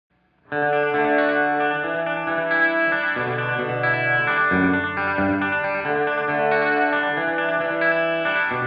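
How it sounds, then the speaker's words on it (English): Electric guitar played in a faux fingerpicking style through a Strymon Deco V pedal set to slapback echo, its sustained chords and picked notes each doubled by a short, tight repeat; loud, close and without talk. "Here's a slap back."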